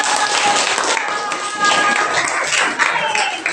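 Students in a classroom applaud together, a dense burst of many hands clapping loudly and continuously with some voices mixed in.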